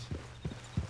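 Horse hooves in Red Dead Redemption 2 clip-clop three times at a slow, even walking pace, soft and fairly close against a low background hum.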